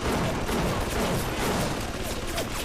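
Dense, continuous gunfire from an automated turret in BioShock, a steady rattling barrage that fills the whole stretch at close range with no pauses.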